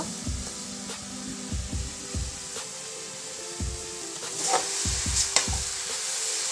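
Grated coconut stirred and fried in a pan for coconut khasta pitha, giving a steady soft sizzle with repeated low scraping strokes of the spoon, close and moderate, with no talking.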